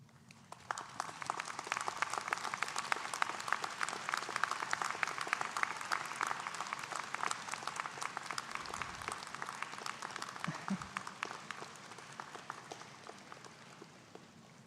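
Graduates and guests at a university convocation clap in a sustained, even patter that fades slightly toward the end, fairly distant in a large hall, with no talking.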